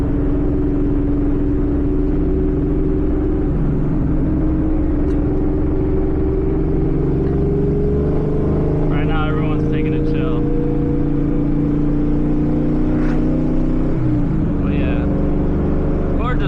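Porsche sports cars driven hard along winding Southern California mountain roads, engines rumbling and droning steadily throughout with rising and falling pitch, heard from inside or close by, while people talk over the engine noise.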